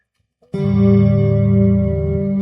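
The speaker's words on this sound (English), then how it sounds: "So you can hear that, that's my acoustic." A sustained strummed acoustic guitar chord rings out after a brief pause, processed through a Phenyx PTX-15 with a shimmering chorus-like tone, loud and steady.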